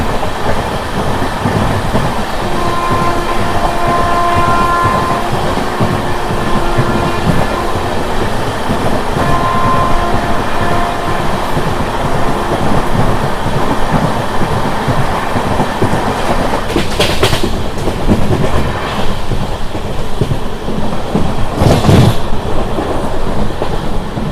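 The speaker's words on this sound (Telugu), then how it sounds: "సో మన ట్రైన్ వచ్చేసి గుడ్లవల్ ఏరియాకి అయితే వచ్చింది" A Machilipatnam to Bidar superfast express train with new coaches rolls into Gudlavalleru, its wheels and carriages rumbling loud and steady with faint clickety-clack, ending in a couple of sharp clanks or squeals near the end.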